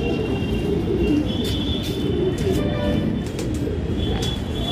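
A Saharanpuri cross Bajre pigeon coos in low, throaty rumbles under a constant wash of noise, with a few faint chirps above.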